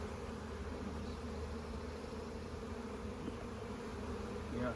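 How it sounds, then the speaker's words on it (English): A steady, low buzz of honey bees hums throughout, like many bees droning close by while a hive is split, with no voices. "We're gonna shake a frame of bees inside there"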